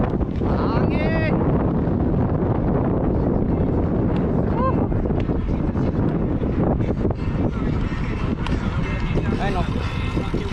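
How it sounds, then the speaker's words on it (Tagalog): Wind by the sea during a ride buffets the microphone as a loud, steady roar for the whole stretch, with voices talking over it. "Hangin."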